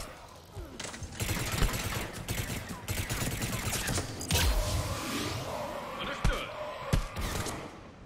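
Gunfire from Garrus's rifle in the sci-fi shooter Mass Effect 3, on a missile battery level, heard as repeated sharp shots and bursts amid a busy battle mix, with a couple of louder cracks standing out near the end.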